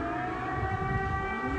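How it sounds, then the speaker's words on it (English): Air raid sirens wail in Kyiv, a steady, distant civil defense tone filling the space with no voices over it. "Sirens sounded in Kyiv Monday night as a massive Russian military convoy moved within 17 miles."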